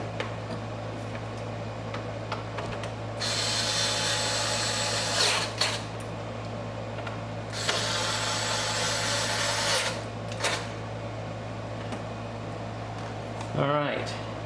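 A power driver tightens screws on a custom engine cover, whirring in two short bursts over a steady background hum, with someone talking throughout.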